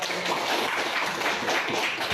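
A short burst of clapping from students in a classroom during a lesson, dense overlapping claps lasting about two seconds at moderate loudness, with no talking.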